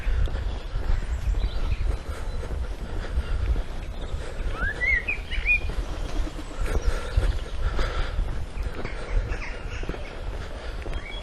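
A crow caws a few times in the middle distance over steady outdoor rumble, the calls brief and fairly faint.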